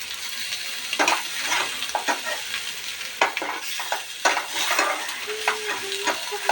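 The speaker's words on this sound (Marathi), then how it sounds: "हे बघा, झाले हे मासे फ्राय." Bangda mackerel coated in ginger-garlic paste and Malvani masala fries in a pan, a close, lively sizzle broken by repeated scraping and stirring clinks of a utensil, with no speech.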